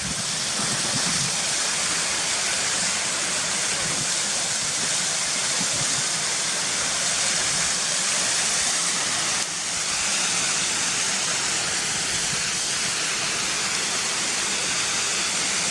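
A steady, broad rush of falling water from Cotter Force waterfall, constant and fairly close, with no voices.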